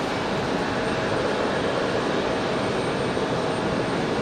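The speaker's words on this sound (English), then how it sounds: "F-15 making about 4 different passes here" An F-15 fighter jet roars over an airport during one of several low passes, a steady, loud, broadband engine rumble that holds constant throughout without any break.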